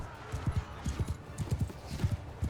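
Horses galloping in the Mount & Blade II: Bannerlord video game, a fast, rhythmic clatter of hooves in repeated bursts, fairly faint against a low battle ambience.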